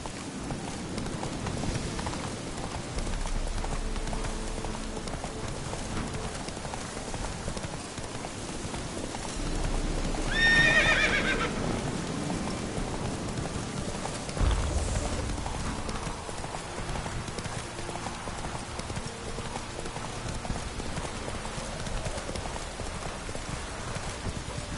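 Roach the horse gallops through The Witcher 3 in a steady run of hoofbeats under light rain-like ambience, with a brief brighter swell near the middle and faint voices now and then.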